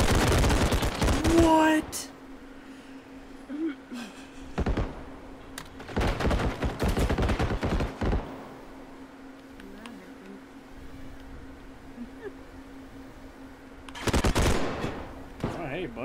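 Bursts of machine gun fire in the first-person shooter Bodycam, several loud rapid volleys separated by quieter gaps, with players talking between them.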